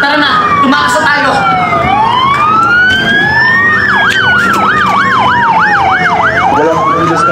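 A police car siren blares loud and close in a Filipino drama chase scene, first a slow rising and falling wail, then a rapid yelping warble, with vehicle rumble underneath.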